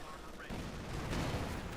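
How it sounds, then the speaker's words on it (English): Machine gun fire in the real-time strategy game Company of Heroes 2, a dense burst of rapid shots rumbling amid distant battle noise in a multiplayer match. "Machine gun hammering away veteran 2."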